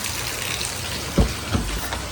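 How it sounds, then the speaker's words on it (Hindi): Heavy rain pours outside a temple during a downpour, making a steady broadband hiss throughout with a couple of brief nearby knocks. "पानी बहुत तेज बरस रहा है।"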